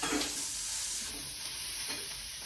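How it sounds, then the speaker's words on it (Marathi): Chopped onion being sautéed in a pan at home, a steady soft sizzle with scraping stir sounds throughout, close and fairly quiet, no voices. "तर मम्मी स्वतः आली कांदा परतायला"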